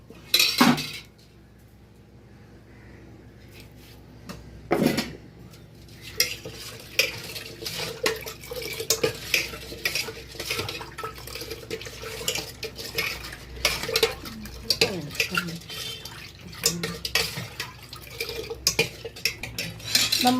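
Rice flour batter with salt being stirred in a metal vessel, with spoon clinks and scraping against the pot coming in bursts, close by and without talk.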